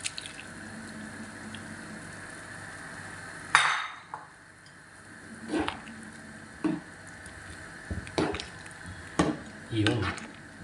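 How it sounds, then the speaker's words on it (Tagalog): Bitter gourd and a sautéed mix go into a pot of simmering mung beans with squash, giving a sharp clatter followed by several wet plops and clinks against the pot over a steady low background, with voices murmuring at times. "ilalagay ko na nga po yung ampalaya. At saka yung ginisa natin kanina"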